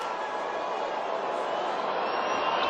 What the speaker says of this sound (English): you can hear a whoosh from the crowd every time this man lets go of his javelin